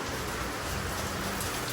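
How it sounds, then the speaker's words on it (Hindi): Heavy rain pouring onto a street in Kerala, a dense, steady wash of drops hissing close by without letup, no voices over it. "देखो बारिश कितनी हो रही, बहुत ज़्यादा बारिश हो रही।"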